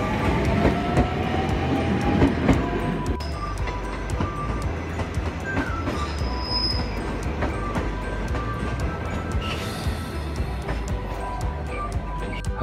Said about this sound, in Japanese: 留置線に観光列車天空が入ってきました。